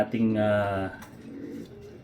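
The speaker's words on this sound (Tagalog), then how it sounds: "ito yung mga ipapadala natin na ibon para kay Brother Aki Vizcara." A racing pigeon's low cooing rises close up, then fades as a voice speaks quietly underneath.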